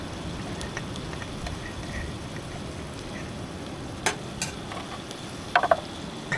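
Ghee sizzling and frying in a pan outdoors on a beach, cooking emu meat: a steady, low crackling hiss throughout, with a few sharper pops and clinks near the end.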